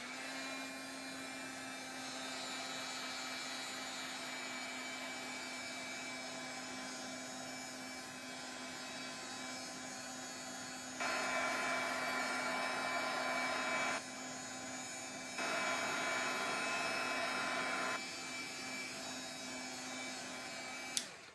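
A heat tool blows steadily over a Christmas mixed-media craft project, a constant loud whirring hum with a tonal whine, rising briefly twice as it moves closer.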